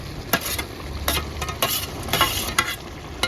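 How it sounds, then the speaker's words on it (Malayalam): A spoon stirs fish and dried tapioca biryani in a pot, with repeated scraping and scooping strokes over a soft simmering sizzle, close up and without talk. "നല്ലപോലെ ഒന്ന് ഇളക്കി കൊടുക്കും"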